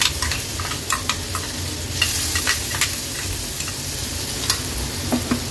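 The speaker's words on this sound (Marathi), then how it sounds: "गॅसची फ्लेम अगदी लोवर करून घेते आणि तेलावर हे वाटण आपल्याला परतून घ्यायचंय" Ground spice paste with turmeric and homemade Agri Koli masala sautéing in oil over a low gas flame, a steady sizzle with repeated scraping stir strokes throughout, close and fairly loud, no talking.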